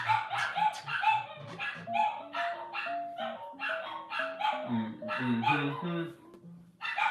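A dog barks and yips repeatedly in short, excited bursts, fairly close, with a few whimpering notes mixed in.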